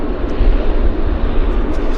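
A jet airliner rolls along the taxiway at Vancouver Airport after landing, its engines giving off a steady, broad rumble with heavy low-end roar that holds constant throughout.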